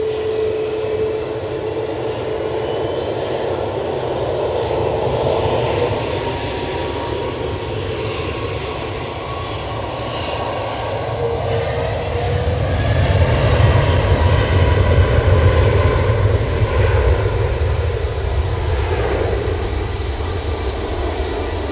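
A British Airways airliner rolls along the runway with a loud, continuous engine roar and rumble that swells toward the middle and then holds, heard from nearby with no talk.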